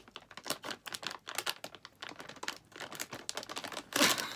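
A Korean snack package being ripped open by hand, with rapid crinkling and tearing of plastic in quick irregular bursts and a louder tear near the end.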